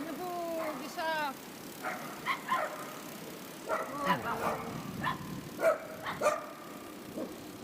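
Several dogs gather at a rural roadside in Sichuan, China, giving a string of yips and barks of varying pitch, some close and some farther off, with people talking in between.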